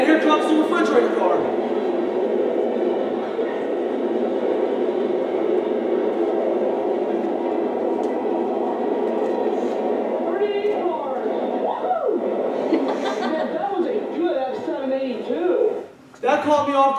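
A refrigerator car on a freight train rumbles past in a steady, continuous roar, with brief higher chirping sounds over it near the end.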